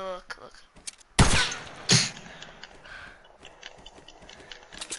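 Gunfire in a video game, two sharp loud shots about a second apart, followed by quieter clicks and rattling mechanical handling noises, with no talk over them.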